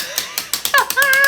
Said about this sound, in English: You just crank it, and it has a ratcheting mechanism so it doesn't automatically fall down